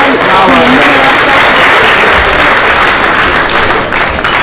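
Loud, sustained applause from a large audience at a mushaira poetry gathering fills the whole stretch, a dense wash of clapping with voices faintly mixed in.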